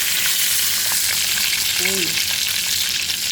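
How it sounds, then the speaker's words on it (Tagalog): Morcon fries in a little oil with a steady close sizzle throughout, and a voice briefly exclaims over it. "Pinirito ko pa siya pero konting mantika lang po."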